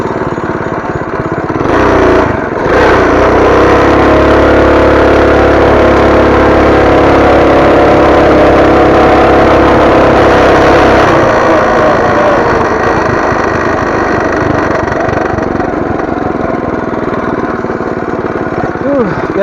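A modified Coleman BT200X minibike with the governor removed, an aftermarket header and a torque converter drones loudly at full throttle during a top speed run. A steady close engine roar holds for about ten seconds, then eases and fades.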